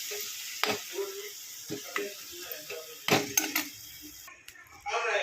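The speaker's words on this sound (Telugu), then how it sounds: "మనం ఇప్పుడు ఇందులోకి ఎగ్స్ కొట్టేసుకుందాం." Eggs cracked one after another into a pan of tamarind-leaf curry, sharp taps and soft sizzling bursts between quieter moments, with a brief crackle of frying near the end.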